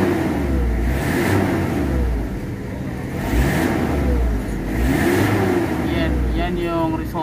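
A Toyota 2L diesel engine revs and drops in repeated waves, loud and close, with a steady mechanical hum underneath.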